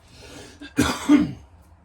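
A single harsh cough, close and brief, preceded by a short breath.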